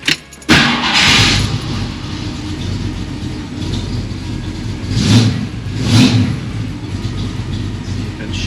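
A 1968 Ford Mustang engine cranks and catches, then runs with a rough, loud idle broken by two distinct revs a second apart, heard close up throughout.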